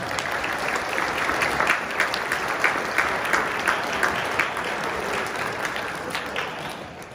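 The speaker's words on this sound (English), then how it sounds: "Let's give them a round of applause." An audience applauds at a school winter concert, honoring volunteers and custodial staff, with moderately loud, continuous clapping that swells slightly and then eases toward the end.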